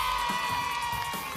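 A studio audience at a TV variety show cheers and applauds for a singer, a dense, loud wash of clapping and shouting voices that holds steady throughout.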